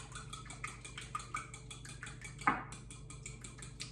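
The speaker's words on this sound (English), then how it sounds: "Stirring." Caesar salad dressing with mayonnaise chunks and fresh pepper being stirred in a bowl, heard as faint, repeated light scraping and clinking of a utensil against the bowl, with one sharper knock partway through.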